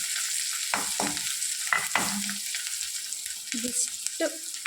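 Curry leaves fry in a pan, producing a hissing sizzle punctuated by several sharp spatters and clinks of stirring, close up, with no one speaking.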